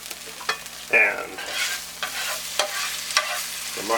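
Mushrooms and onions frying in a pan, a steady close sizzle broken by scraping stirs and brief clatters of a utensil against the pan.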